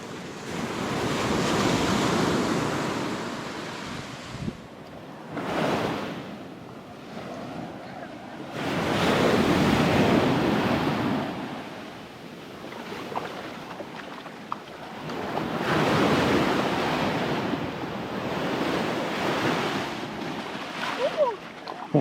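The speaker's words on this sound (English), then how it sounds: "We like the waves hitting us." Ocean waves roll in and break on a Punta Cana beach in slow surges every several seconds, with heavy wind buffeting the microphone between the swells.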